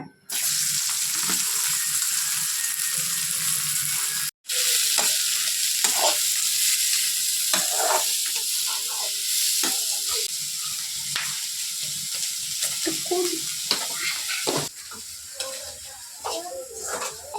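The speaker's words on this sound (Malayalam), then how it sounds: "വെളിച്ചെണ്ണ ഒഴിച്ച് കടുവ ഇടണ്ടേ കടുക് വേണ്ടേ ഇതില് പിന്നെ ഇപ്പൊ വേണ്ടേ എണ്ണ ചൂടായി ഉള്ളി ഇടാൻ പോവാ" Onions frying in hot coconut oil with mustard seeds in a pan: a loud, continuous sizzle and crackle with occasional stirring scrapes, lasting throughout.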